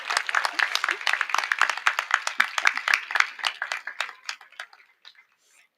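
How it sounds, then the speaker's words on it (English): An audience claps at an 8th grade promotion ceremony, with dense, close applause that holds steady for about four seconds, then thins into scattered claps and stops. "You can clap now."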